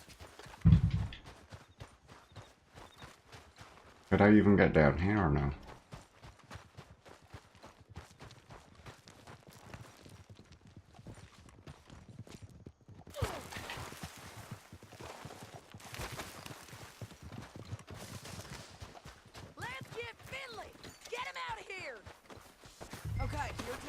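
Horse hooves clip-clopping in Red Dead Redemption 2, a steady walking rhythm running through most of the stretch beneath frequent talk, with louder bursts of other game noise partway in and toward the end.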